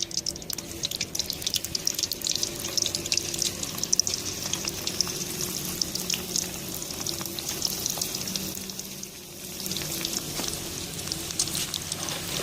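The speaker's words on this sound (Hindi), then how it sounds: "अब मैं चिकन को फ्राई करूँगा।" Chicken pieces for Chicken Manchurian fry in hot oil with a dense, steady sizzling hiss and faint crackles, close and continuous throughout, with no talking.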